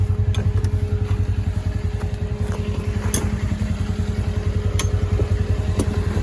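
Kubota Sidekick utility vehicle engine running steadily while driving, a continuous loud low rumble with rapid rhythmic clatter and no talking.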